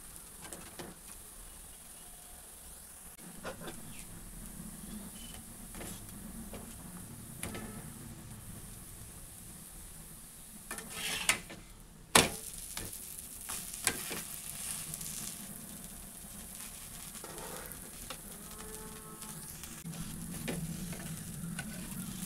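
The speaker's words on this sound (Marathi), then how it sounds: "आपला धपाटा आता मस्त आपण भाजून घेणार आहोत." Dhapata flatbread roasts on a hot pan with a quiet, steady sizzle, joined by occasional scraping and tapping of a spatula and a few louder knocks partway through.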